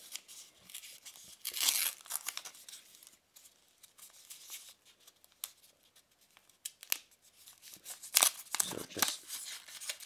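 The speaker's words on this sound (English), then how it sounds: "tearing open the paper wrapper, and of course pulling back the foil as well" Paper wrapper tearing open and foil peeling back from a small Seed and Bean coffee espresso dark chocolate mini bar, crisp bursts of rustling and crinkling in separate spells, up close, with a few brief spoken words in between.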